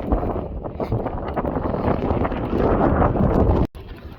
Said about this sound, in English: it's a little windy, but it's pretty.